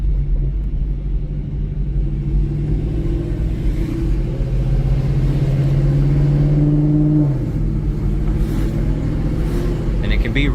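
A 2013 Chevrolet Camaro ZL1 with Corsa exhaust and headers cruising: a deep, steady exhaust rumble with a rising drone that drops off after a shift, heard close from inside, with someone talking over it.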